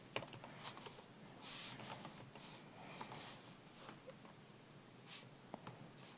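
HTML code being typed on a computer keyboard, a quick irregular patter of light key clicks at close range, continuing steadily without any voice.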